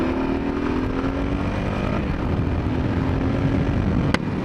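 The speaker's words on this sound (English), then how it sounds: "Man, that's wide open throttle." A 2022 Kawasaki KLR650 motorcycle engine holds wide open throttle, a loud sustained drone whose pitch climbs slightly, heard close over rushing wind, with a brief sharp tick near the end.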